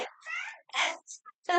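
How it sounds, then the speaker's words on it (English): A Spangle-type pet cat meows indoors in several short, close, drawn-out cries separated by brief pauses, loud and clear with no talking over it. "Oh, my kitty is meowing."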